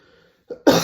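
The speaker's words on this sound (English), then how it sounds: "I'm suffering with some throat infection and keep on coughing all the time." A person with a throat infection lets out a single sharp, harsh cough near the end, close and fairly loud, after a brief quiet pause.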